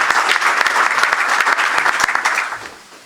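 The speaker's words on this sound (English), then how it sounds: "Let's give Bruce a hearty round of applause." A press conference audience applauds, with a burst of crisp, dense clapping and a few sharp individual claps that taper off toward the end.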